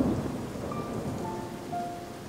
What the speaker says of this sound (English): Really loud thunder.